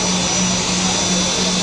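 Steady, loud roar of Alaska Airlines jet airplane engines, heard up close as a continuous broadband drone with a low hum, no talking.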